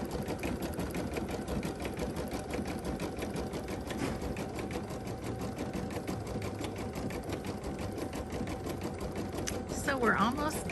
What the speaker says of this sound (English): the machine is smart enough to know that it's got that yarn couching foot on versus what we're going to be doing, any other type of embroidery